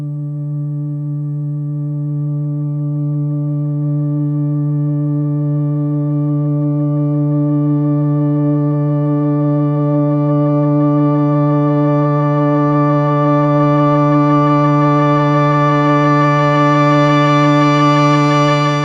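A sustained synthesizer pad preset called Gripless holds one steady, rich harmonic tone, its upper overtones slowly brightening over the length of the note, with no voices.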